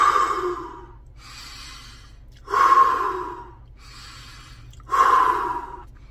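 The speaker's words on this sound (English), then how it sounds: "I want you to take a deep breath three times" Three deep breaths drawn in and let out slowly, each a loud breathy inhale-exhale about two and a half seconds apart, close and alone over a faint low hum.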